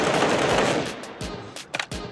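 Gunfire from the video game CS:GO: a rapid automatic burst followed by a few separate sharp shots, loud and close with no one talking.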